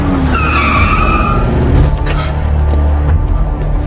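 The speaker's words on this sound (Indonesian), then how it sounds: "tiba-tiba si pria tersebut ditabrak oleh sebuah mobil" A car skids with a loud, sustained tire screech and engine roar in a dramatic film scene where a man is struck, the squeal sweeping for a few seconds before fading into rumbling road noise.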